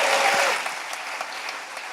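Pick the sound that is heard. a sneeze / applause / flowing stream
applause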